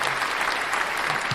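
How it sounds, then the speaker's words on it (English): A short burst of enthusiastic clapping from a crowd, dense and continuous throughout. "Where's the applause?"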